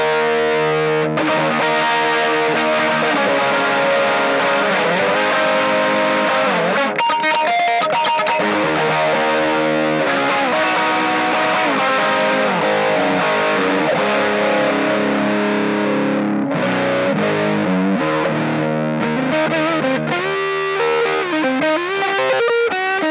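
Overdriven electric guitar through a small portable mini amp, tone at halfway and gain moderate, playing steady chords and riffs loud and continuous for the whole stretch with no voices.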